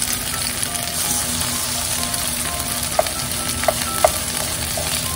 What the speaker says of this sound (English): Heat the fry pan and spread some cooking oil over the medium heat. We're gonna bake the natto oyaki or small pancake.